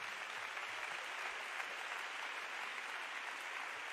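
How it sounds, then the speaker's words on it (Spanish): A church congregation claps for Jesus in a steady, dense wash of applause that holds evenly throughout, moderately quiet and without any voices on top. "Fuerte un aplauso al Señor Jesús"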